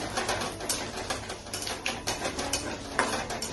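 Coriander seeds and whole cumin go into a pan with fenugreek for a Bengali rui fish curry, giving a faint crackle and a few light clinks of a spoon against the pan.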